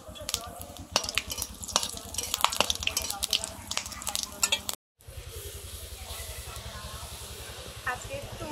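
Whole cumin, dried red chillies and whole garam masala sizzle loudly in hot oil in a home kitchen pan, a dense continuous hiss with clinks of a stirring utensil, while someone talks over it throughout.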